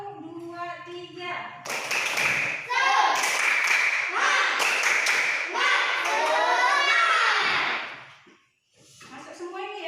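A group of schoolchildren in a classroom claps a fast, rhythmic spirit-clap chant, the dense claps coming in bursts with voices mixed in, stopping briefly near the end before talking resumes.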